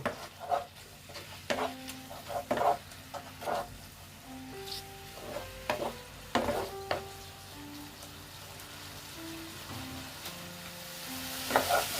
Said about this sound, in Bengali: তারপরে দিচ্ছি আমি হলুদ দিয়ে এটাকে আমি ভালো মতন কষিয়ে নেব